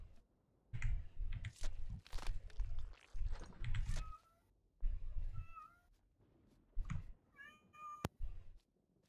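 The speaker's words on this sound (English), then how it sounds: "kitty wants loving." A pet cat meows several times, with short, fairly close calls scattered through the stretch, while keyboard tapping and soft thumps sound in between.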